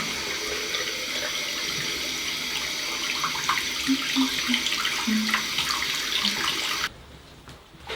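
Tap water runs steadily into a sink as face gel is rinsed off during a night skincare routine, a continuous close splashing wash that stops abruptly near the end.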